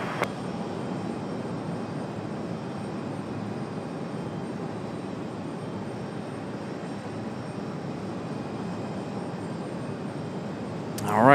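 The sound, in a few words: Lufthansa Airbus A330 jet taking off, runway 23 right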